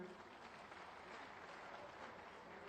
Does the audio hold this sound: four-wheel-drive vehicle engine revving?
no